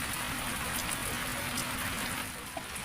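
Steady rain falls in a dense, even hiss across the whole stretch, with no voices and only a few faint drop ticks standing out.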